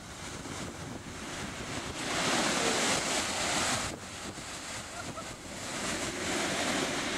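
Storm-driven ocean waves on the UK south coast during Storm Ellen crash and roar steadily in broad surges, loud and close, with heavy wind buffeting the microphone and no voices.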